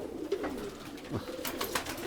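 Pigeons kept as a hobby coo in low, throaty bursts, with a few soft calls close by over light background noise.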